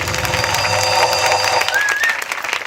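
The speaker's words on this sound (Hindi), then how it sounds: "एक बार ताली हो जाए।" An audience at a religious convention in Bindhanpali, Orissa, breaks into steady, dense applause that holds loud and even for a couple of seconds before thinning out, with no voices over it.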